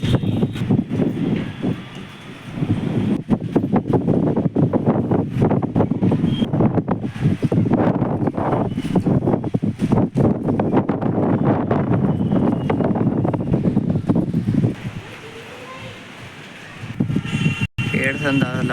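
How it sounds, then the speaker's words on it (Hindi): Strong wind buffets the microphone on a rooftop, a loud, continuous roar that is steady for most of the stretch and eases toward the end, with someone talking over it. "बहुत तेज़ हवा चल रही है।"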